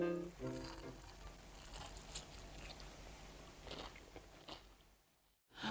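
Someone bites and chews fried tilefish cooked with its scales on, a few crisp crunches close to the microphone in a quiet room, ending in a short silence.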